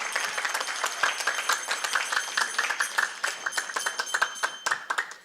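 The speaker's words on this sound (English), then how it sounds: "Give them a big round of applause before I announce something." Applause at a Sunday program for a line of children, a lively crowd of close, crisp individual claps forming a dense, steady rhythm that fades slightly at the end.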